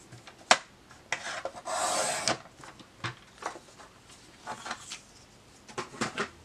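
Paper is trimmed to size for a personal-size planner pocket folder, with short, close rasping cuts and scrapes, one longer slicing stroke in the middle, and scattered handling noises.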